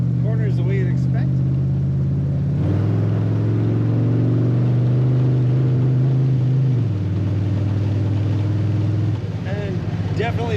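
1956 Oldsmobile Holiday Coupe V8 accelerating on the road, a loud, steady engine drone rising in pitch through a gear, dropping, then climbing again, heard close from inside the car.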